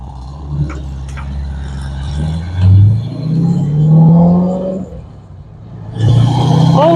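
A manual-transmission car driving over dust, its engine rising and falling through revs with a loud, close drone and a fresh surge near the end, heard from inside the car with no talking.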